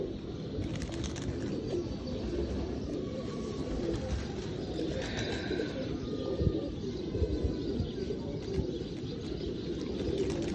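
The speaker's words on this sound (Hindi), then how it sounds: "थोड़ी सी चिट चैट सियालकोटी कबूतरों के बारे में इमाद भाई क्या कहते हैं?" Sialkoti breeder pigeons coo softly over a steady outdoor background of low rumble, with a few faint chirps and calls rising now and then.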